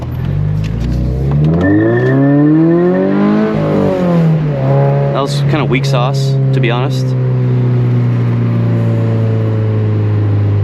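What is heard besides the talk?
sports car engine accelerating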